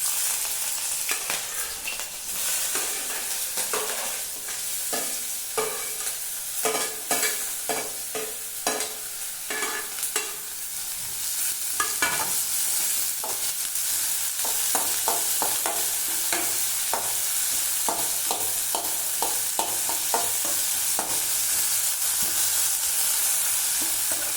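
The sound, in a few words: onions frying and being stirred in hot oil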